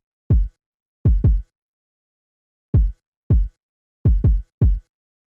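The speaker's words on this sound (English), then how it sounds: "So the next thing that we have here is this kick" A deep, punchy kick drum from an ethereal hip-hop beat plays alone in a sparse, syncopated pattern of about eight short thumps, some in quick pairs and triplets, each with a fast decay.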